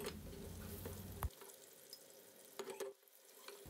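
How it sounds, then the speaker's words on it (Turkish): Steady crackling sizzle of eggplant frying in hot oil, close up, with a few louder pops and spatters. "Yağım ısındıktan sonra patlıcanları ekliyorum ve kızartıyorum."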